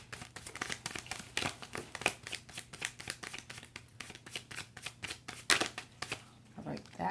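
Tarot cards being shuffled by hand, a rapid run of crisp riffling slaps and soft crinkles, close and fairly quiet, with a brief pause near the end.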